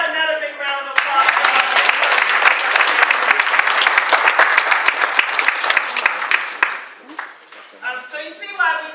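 Audience at a town hall meeting on a replacement for a Dominick's grocery store bursts into dense, steady clapping that swells after a spoken opening, then fades as a voice talks again over the final scattered claps.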